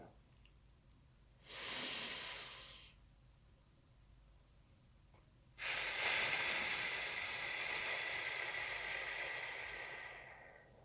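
Two slow, deep breaths during a guided sophrology relaxation exercise, a shorter airy inhale followed by a long, steady hissing exhale, close and alone.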